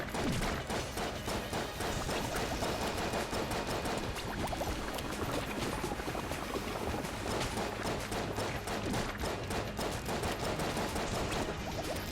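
Gunfire from the Judge weapon in the game Enter the Gungeon, dense rapid shots blasting continuously with game effects underneath, loud and unbroken throughout.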